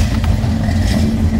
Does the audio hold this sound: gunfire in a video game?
no